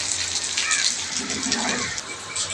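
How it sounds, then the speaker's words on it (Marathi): Steady, broadband hiss of rain falling, continuous and fairly loud throughout, with faint background noise mixed in. "आणि पाऊस थोडा कमी आलेला आहे आता"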